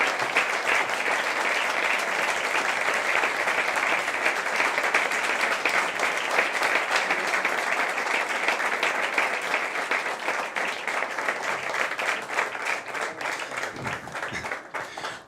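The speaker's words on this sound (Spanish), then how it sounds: "doña Carina Milei, para quien pido un fuerte aplauso" An audience at an economics event gives a long, loud round of applause, dense clapping that holds steady for about fifteen seconds before tapering off at the end.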